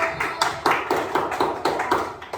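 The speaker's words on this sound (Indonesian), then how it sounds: "Tepuk tangan teman-teman buat kelompok 1." Classmates clap in unison after a group presentation in a classroom, a steady, rhythmic series of about nine crisp group claps at moderate volume.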